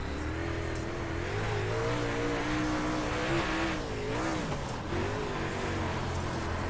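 A dirt late model race car in the iRacing sim on the Lincoln dirt track, its engine droning and revving up and down with pitch swells through corners, close and continuous, with a hint of tire scrub.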